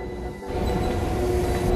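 A CPTM series U6B commuter train passes on São Paulo's Line 11 or 12 near Luz station, a steady, close, dense rumble of wheels and car noise that swells slightly and holds, with no voices.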